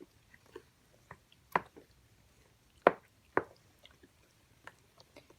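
Sourdough pre-ferment being mixed into bread dough gives soft, sticky squishes and dull plops at an irregular pace, close and faint, with no talking.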